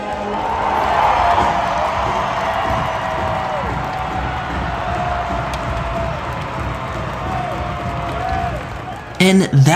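Hockey fans at the Kohl Center in Madison, Wisconsin, send up a steady roar of crowd cheering with scattered whoops, sustained and fairly loud throughout, with a louder burst right at the end.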